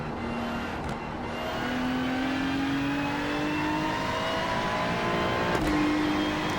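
A car engine hums steadily at a leisurely cruising pace in a sim racing game, its pitch slowly rising and easing through gear changes, smooth and continuous with no speech.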